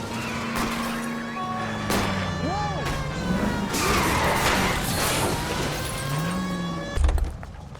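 A car rams and spins out during a police chase in the L.A. Noire video game, with a loud engine roar, tire screeches and a crunching impact near the end, while voices talk over it.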